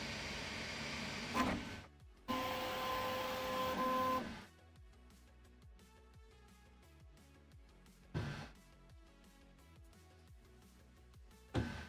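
A Qidi X-Plus 4 3D printer runs its nozzle cleaning routine: a whirring motor passage gives way to rapid rhythmic stepper buzzing and back-and-forth wiping movements, with short louder motor surges, all fairly close.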